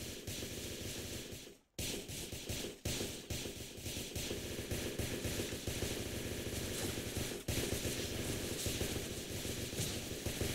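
Sustained video game gunfire aimed at the player, a steady rattle of rapid shots continuing throughout, with one short gap near the start and a sharp crack later, at moderate distance.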